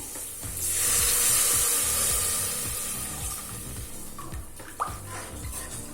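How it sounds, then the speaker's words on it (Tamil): About two cups of water pour steadily into a cooking pot for peas pulao with a rushing, splashing hiss that tapers off, followed by a brief clink. "நான் 2 கப் தண்ணி சேர்க்கிறேன்."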